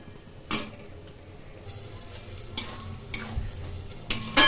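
A spoon stirs watery curry in a pan to cook off the liquid, giving a few distinct scraping knocks against the metal over a low, quiet simmer, with no voices.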